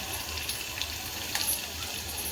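Chopped garlic and curry leaves sizzle steadily in hot oil while tempering masoor dal, a close, continuous crackling hiss with faint spattering.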